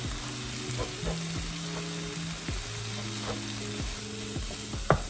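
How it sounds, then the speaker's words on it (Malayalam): Masala being stirred and fried in a pan for a masala prawn curry: an even close sizzle with occasional soft scrapes and a sharper knock near the end, no talking. "ഈ മസാല ചെറുതായിട്ടൊന്ന് ഇളക്കി ഒന്ന് അതിൻ്റെ പച്ച മണം പോകുന്നത് വരെ ഒന്ന് ഇളക്കിയിട്ട് എല്ലാം കൂടെ മിക്സ് ചെയ്യാം"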